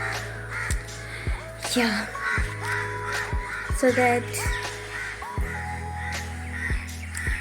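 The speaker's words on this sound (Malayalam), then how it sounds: "ഇപ്പോൾ കാക്കയുടെ സൗണ്ട് ആയിരിക്കും അല്ല." Crows cawing outside, several loud sharp caws in quick irregular series over a steady low hum, under a voice speaking nearby.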